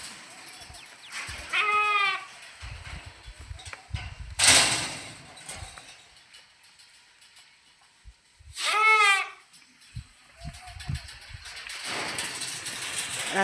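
Sheep in a pen bleat in loud, wavering calls, two prominent bleats near the start and middle, with shuffling, knocking and rustling of the flock between them.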